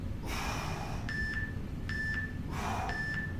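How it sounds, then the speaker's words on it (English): Short electronic beeps from a workout interval timer sound three times at a steady pace, fairly clear, between loud breathy exhales in a strength-training class. "Oh, there's our timer."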